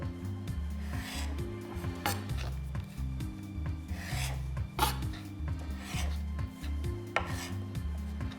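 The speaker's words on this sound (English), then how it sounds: "Scrape some of the pith off" A knife scrapes pith off a strip of citrus rind for a martini, giving short rasping strokes in an uneven rhythm, close and fairly quiet, with a low hum underneath.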